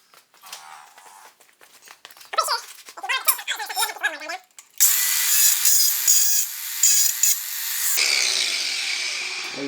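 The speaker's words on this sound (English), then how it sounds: "now I'm going to grind this welding wire down" A power grinder grinds down a protruding welding wire, starting with scraping and rubbing noises, then a loud, harsh grinding that runs steadily before easing into a lighter whir at the end.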